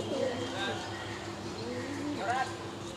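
Red Jacobin pigeons at a busy pigeon market cooing several times amid steady crowd noise, with people talking nearby.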